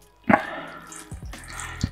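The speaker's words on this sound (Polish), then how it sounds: "I teraz musimy wziąć i odcisnąć te ziemniaki, bo tutaj jest bardzo dużo wody." Grated potatoes for potato pancakes are squeezed by hand, wringing out their water in a few short wet splashes and drips into a bowl, close and fairly quiet.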